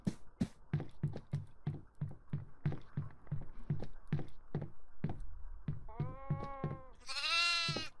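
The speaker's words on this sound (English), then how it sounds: "There is another goat in the basement." Goat bleating in the horror video game Devour: a long run of rapid, evenly spaced clicks and taps, then two clear wavering bleats toward the end, the last higher and louder.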